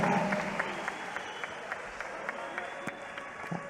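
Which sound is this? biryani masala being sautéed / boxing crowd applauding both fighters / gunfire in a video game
boxing crowd applauding both fighters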